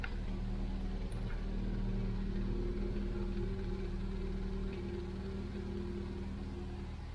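A 1969 MGB's engine idles steadily and smoothly at moderate volume, a low continuous rumble with an even, unchanging rhythm and no voices over it.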